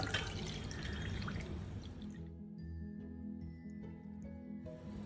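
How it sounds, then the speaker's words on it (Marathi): Water pours steadily into a cooking pot for about two seconds, 8 to 10 cups for arrowroot pudding, then slows to scattered drips and trickles. "ह्यामध्ये मी 8 ते 10 कप पाणी घालणार आहे"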